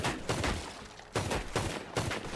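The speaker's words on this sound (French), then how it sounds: "on tire en dessus avec le flingue" Gunshots from a video game blasting crates on Wild West wagons, several sharp loud bursts in quick succession with a short pause between groups, no talking.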